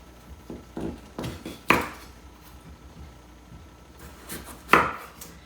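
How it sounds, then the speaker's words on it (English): A knife chops raw potatoes into fries on a board, an irregular run of thuds and two sharp louder knocks against a quiet background, with no voices. "let's start cutting our potatoes up into French fries"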